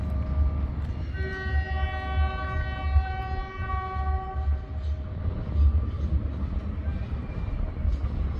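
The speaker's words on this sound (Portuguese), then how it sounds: "Olha que trem doido, menino." A freight train hauling ore wagons past copper and metal works, its horn sounding a long sustained multi-tone blast over a steady low rumble of rolling wagons, fairly close.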